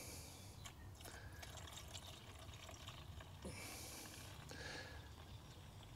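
Two-stroke fuel mixed 25:1 is poured into the empty tank of a Tecumseh-engined Flymo lawn mower, giving a faint, continuous liquid trickle with small clicks and knocks against the plastic.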